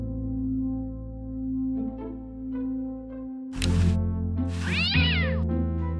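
A cat meows in the Day of the Tentacle video game, several drawn-out, pitch-bending cries over steady game music, the last one loud and wavering.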